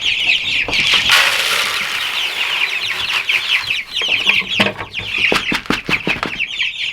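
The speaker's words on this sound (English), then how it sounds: "usually there's always a chicken stuck under there" Chickens in a greenhouse cluck and squawk loudly and close, with busy overlapping calls, sharp pecking taps and a brief flutter of wings, and no talking.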